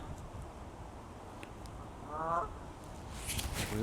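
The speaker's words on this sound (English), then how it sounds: "The wildlife and the birds and the ducks, they're having a fabulous time here, Licky, today, just sitting, relaxing in the" Geese and ducks honk on a small park lake in Bathpool Park, Kidsgrove, in autumn: a single nasal honk midway, then louder honking at the end over quiet outdoor ambience.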